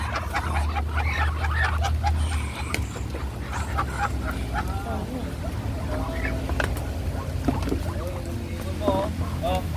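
Ducks quack in a busy group over a steady low rumble of a boat motor, with people talking intermittently nearby.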